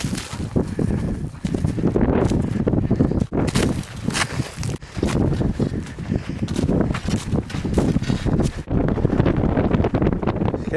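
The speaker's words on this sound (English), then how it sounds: "quite windy, visibility" Strong wind buffets the microphone in loud, continuous gusts with brief lulls on a hill walk in the Bluestacks, roaring throughout with no one speaking.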